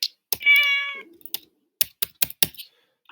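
A cartoonish cat meow plays from an app's cat button, one clear short meow followed by several quick, dry clicks of keyboard typing.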